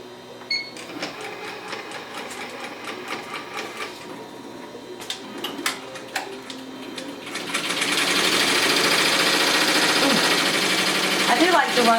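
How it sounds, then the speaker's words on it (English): Embroidery machine stitching on webbing at about 740 stitches a minute, giving a steady, close rapid mechanical chatter that grows louder and denser partway through. "I do like to run the machine on this around like 740 stitches a minute"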